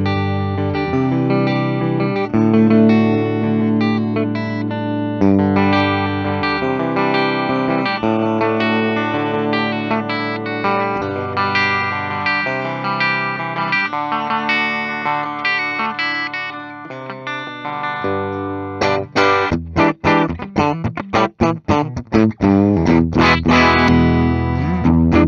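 Electric guitar playing from a 2002 Gibson Custom non-reverse Firebird with volumes rolled back to about seven, loud sustained chords through effects with distortion and chorus, ending in choppy strummed hits, no talking.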